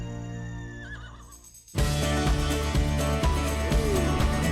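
A rescued horse gives a whinnying neigh, followed by a louder, busier stretch with rhythmic thumps that could be hooves. The sound is fairly close, with no speech.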